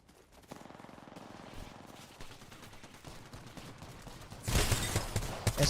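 Rapid bursts of gunfire from a duos tournament video game match trade back and forth at moderate distance, swelling into a louder, denser volley near the end.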